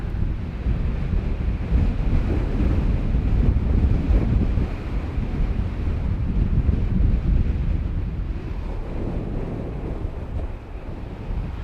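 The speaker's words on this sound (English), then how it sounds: "And we do have a lot of wind." Strong wind buffets a microphone on a slope where an RC glider is flying, a loud, steady low roar with gusty rumble that runs throughout and covers everything else. No voices are heard.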